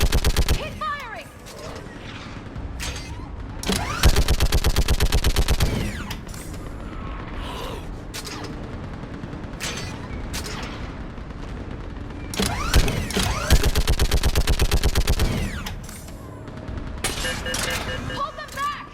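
Bursts of automatic gunfire in Mass Effect 3 during a battle on Thessia, with dense rapid volleys around four to six seconds and again near thirteen to sixteen seconds, set over constant mechanical battle noise with voices talking.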